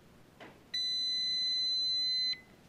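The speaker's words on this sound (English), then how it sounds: "Steady my hand here so we get a clear beep." Continuity-tester beep checking the center pin of a DragonLink telemetry antenna lead, a single steady tone lasting about a second and a half, clear and loud over a quiet background.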